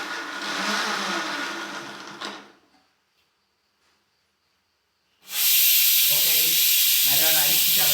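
A mixer grinder crushes cooked beef for a beef fry in two loud, whirring bursts. Its motor runs for about two seconds, winds down into near silence, then starts again at full roar until the end.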